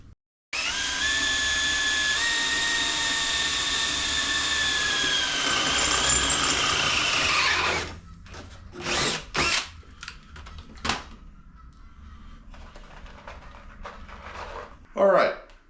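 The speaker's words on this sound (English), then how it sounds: "the Harbor Freight drill bits didn't work out so well" A handheld power drill with Harbor Freight drill bits bores into wood for an anvil stand, whining loud and steady for about seven seconds, then stopping, followed by short clunks and a brief final burst.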